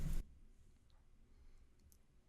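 A single sharp mouse click on a validate button in financial reporting software, brief and close, followed by quiet room tone.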